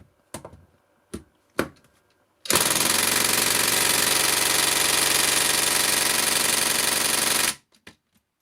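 A Makita 40V impact driver runs at first speed: a few sharp clicks, then about five seconds of loud, continuous rapid hammering buzz close by before it stops abruptly.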